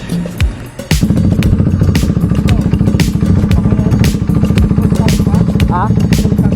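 An orange KTM Duke motorcycle's engine runs on the road with a loud, rhythmic, throbbing pulse and a brief thump near the start, heard up close with some voices mixed in.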